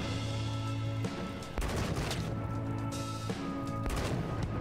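Turret gunfire in the video game Wasteland 3 rattles in dense, continuous bursts with heavy booms, loud and close throughout with no pause.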